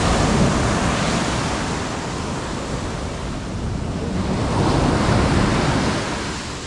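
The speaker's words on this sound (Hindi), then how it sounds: "समंदर देख के एक्साइटमेंट लग रहा है, देख रहे हो लहरें, देख रहे हो भाई।" Ocean waves breaking on Kollam Beach in Kerala, a loud, continuous roar of surf that swells and eases, mixed with wind buffeting the microphone and no voices.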